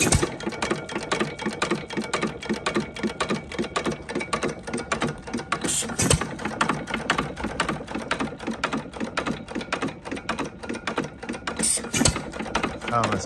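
A Stover 1.5 horsepower KE hit and miss engine running close by, a rapid, steady mechanical clatter of regular ticking beats with occasional louder firing thumps, loud and continuous.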